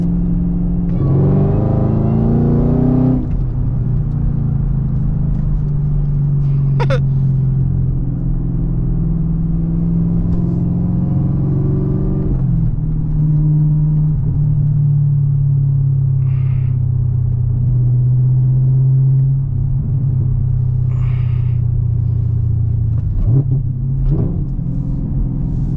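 A Camaro ZL1 with a 6-speed manual pulls hard, its loud, close engine rumble rising through the gears in long sweeps with brief shift breaks, heard alone from inside the car.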